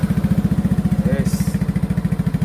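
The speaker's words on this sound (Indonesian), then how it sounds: "Ya umumnya knalpot Fu tuh garing-garing yang ada sedikit ngebas-ngebasnya gitu loh" A Yamaha NMAX scooter fitted with an FU racing exhaust idles close by with a rapid, even, throbbing pulse and a slightly bassy, crackly tone, while a brief voice sounds in the middle.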